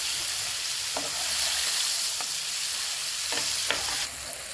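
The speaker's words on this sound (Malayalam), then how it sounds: "എണ്ണ ചൂടായി ഇനി മീൻ ഇട്ട് കൊടുക്കുക മീനെല്ലാം ഇട്ട് കൊടുത്തു ഇനി അതൊന്ന് വെന്ത് സെറ്റായി വരട്ടെ" Fish fries in hot oil in a pan for a Kerala-style fried fish meal, with a steady loud sizzle and a few soft crackles and pops close by, with no talk.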